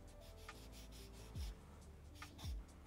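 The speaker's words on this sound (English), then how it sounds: "I want to just sharpen this one first." Wood carving chisel having its flat back sharpened on a stone, a steady, faint close rubbing and scraping with rhythmic strokes and two slightly louder pushes, no talk.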